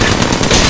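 Sustained automatic gunfire as a unit opens fire in a video game, a dense, loud burst of rapid shots filling the whole short moment.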